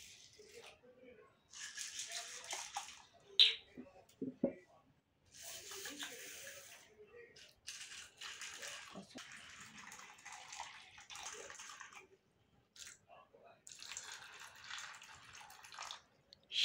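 Water is poured from a tap over mixed dried pulses to soak them, several bursts of splashing and rattling grains separated by pauses, with someone talking in between.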